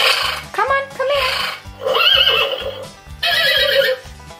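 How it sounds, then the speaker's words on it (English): A horse neighs in a summer camp scene, several loud whinnies in quick succession over a steady rhythmic musical beat, with voices mixed in. "What a beautiful horse."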